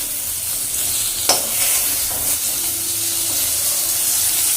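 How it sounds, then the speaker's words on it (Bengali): Potatoes frying in oil in a home kitchen pan, with a steady broadband sizzle throughout and a sharp scrape of stirring near the start, close and fairly loud, with no talk. "আলুটাকে ভেজে নিই।"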